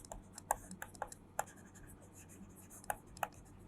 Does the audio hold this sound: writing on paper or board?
yes